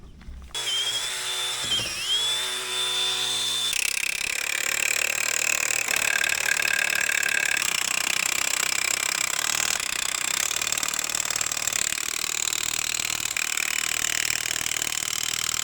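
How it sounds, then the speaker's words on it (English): A power-driven wire wheel whines as it scrubs dirt from bolt threads on old land-clearing equipment, a steady loud grinding drone with a brief pitch dip near the start, running alone. "Need to clean the other threads with the wire wheel first."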